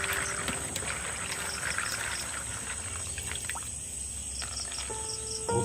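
Soaked almonds are rinsed in clean water while making a milk-free almond mishti doi, with steady close sloshing and pouring water over a faint high insect-like whine and no voices.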